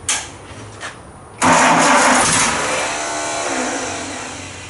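A 1949 Studebaker 2R5 truck engine, hotwired, cranks briefly and then catches and fires up loudly close by. It settles into a steady, slightly uneven idle that runs to the end.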